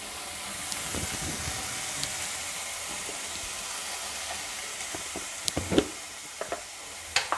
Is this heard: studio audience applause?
no